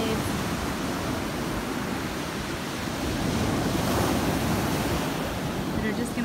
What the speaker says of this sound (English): Look at these ginormous waves.